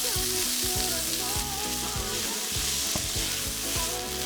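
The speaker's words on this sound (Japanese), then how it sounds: "香りが出たら豆腐を戻して炒め合わせます。" Tofu is stir-fried with minced garlic and ginger in sesame oil, heard as a loud, continuous close-up sizzle with rapid rhythmic scraping of a utensil across the pan and no talking.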